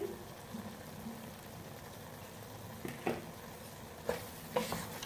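Vermicelli with khoya, pistachios, coconut and raisins is stirred in a pan over a soft, low sizzle, with several distinct scraping strokes of the spoon against the pan toward the end.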